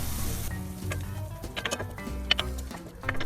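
Bulgogi frying in a pan with soy sauce and sugar for Korean fried rice, a close, moderate sizzle with scattered ticks and clatters of stirring, and a low hum underneath, no talk.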